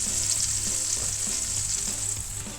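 Diced onions in olive oil sweating in a pan, giving a steady, dense close sizzle that holds evenly throughout with faint low clatter beneath.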